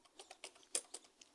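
Quick light keystrokes on a computer keyboard, about a dozen close, crisp clicks in an uneven rhythm, with one sharper tap near the middle and no voices.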